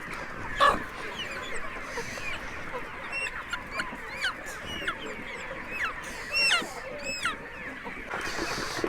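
Small chicks and a rooster in a poultry coop, with scattered clucks, peeps and short squawks overlapping against a steady background hiss, close and fairly busy throughout.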